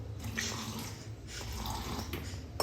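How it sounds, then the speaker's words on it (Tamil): Water poured into a homemade nungu (palm fruit) sherbet drink in a village setting, a steady splashing pour running close and continuous throughout. "கொஞ்சம் தண்ணி ஊற்றிடுவோம்"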